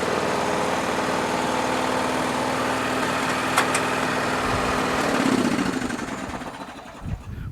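A small Toro engine idles steadily at close range with an even, sputtering drone, then its pitch drops and it loosens into a rougher putter.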